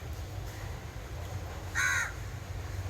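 A single crow gives one harsh caw, clear and fairly close, over a quiet, faintly rumbling outdoor background with no talk.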